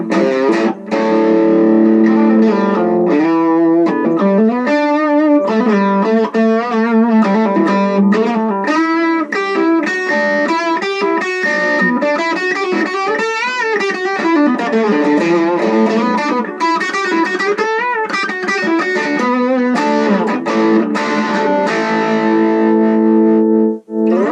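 An electric guitar played straight through an Epiphone Valve Junior valve amp with no pedals gives a loud, continuous run of gritty overdriven chords and riffs, close and alone with no talking.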